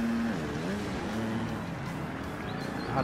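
A supercross motorbike in a racing video game churns through a muddy track, its engine whining steadily and shifting pitch as it revs, loud and continuous without pause.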